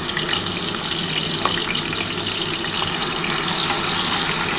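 Prawns frying lightly in hot oil in a pan, a dense continuous sizzle with small crackles and pops throughout, no talking.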